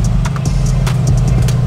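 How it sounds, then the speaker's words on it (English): A Mercedes V8 super SUV with a Valvetronic exhaust system burbles loud and close, its deep engine note rumbling steadily with slight revs. "super SUV that sounds like an old school muscle car"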